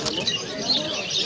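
Pigeons, including Madras breeds, at the Birnagar pigeon market coo and flutter close by in a brief, busy mix of calls and wingbeats, with a voice faintly present.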